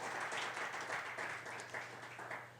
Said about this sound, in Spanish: Denle un aplauso al Espíritu Santo de Dios.